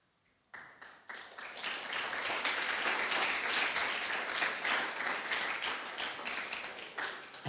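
Audience applause at a church youth Christmas service, dense sustained clapping that starts abruptly and stays steady and fairly loud throughout, with no speech over it.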